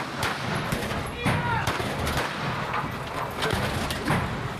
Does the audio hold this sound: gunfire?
yes